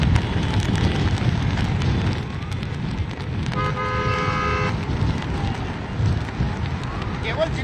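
Vehicles carrying athletes pull away one after another amid a celebration crowd, with a steady roar of traffic and chatter and a sustained car horn blaring in the middle.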